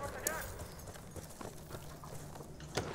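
A horse gallops in the Battlefield video game, with quick clip-clop hoofbeats running under lively game noise and overlapping voices.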